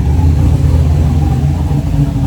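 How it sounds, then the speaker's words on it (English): A very loud Ford Mustang drift car engine rumbles and revs up close, a deep, throaty, continuous roar holding for a couple of seconds with no talking over it. "Got this super loud Mustang over here."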